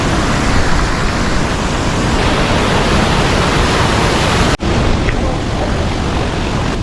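Water rushes through irrigation dam shutters at Papanasam near Ambasamudram in Tirunelveli, Tamil Nadu. A loud, steady roar fills the whole clip, broken only by one brief dropout partway through.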